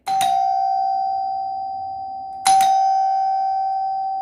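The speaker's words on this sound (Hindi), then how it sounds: "देखिए दोस्तों, हमारी घंटी है वो बजने लगी" An electric doorbell wired to a switch rings twice, each a clear sustained electronic chime that starts sharply and slowly fades, the second press coming about two and a half seconds after the first.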